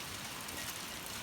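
Rain falls outdoors on a rural property, a dense, even hiss of steady rainfall throughout, with no voices.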